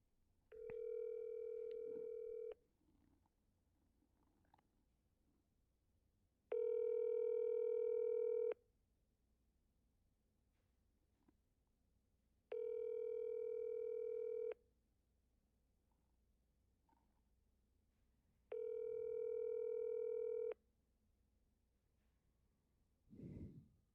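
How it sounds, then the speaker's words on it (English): Steady telephone dial tone while calling someone, sounding in four separate bursts of about two seconds each, evenly spaced with quiet gaps between them, clear and close. "let me see if I can get Kev on the phone."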